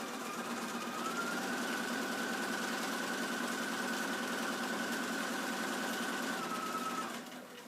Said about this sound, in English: When you get to the end, turn and stitch down the other side.